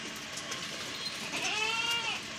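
Goats on a goat farm bleat in a wavering series of calls against a steady outdoor hiss, one cry rising louder and clearer partway through before fading, with no talking.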